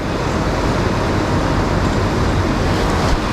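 A car passes on a frosty Irish riverside road, a steady broadband roar of tyres and engine that holds loud and close for the whole stretch, with no talk.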